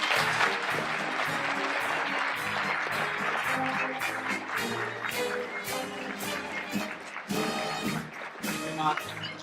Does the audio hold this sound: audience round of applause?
yes